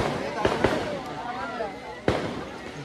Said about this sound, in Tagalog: Grabe, may pa-fireworks din guys.